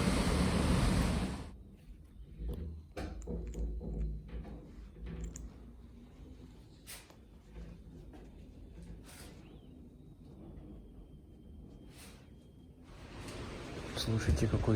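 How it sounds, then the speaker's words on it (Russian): Wind gusting outdoors, loud broadband rushing at the start and end with a calmer stretch between, buffeting the microphone while people talk. "Слушайте, какой звук. Уж даже здесь чувствую ветер."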